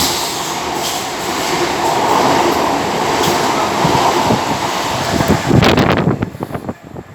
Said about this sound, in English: I'm trying to film the train here.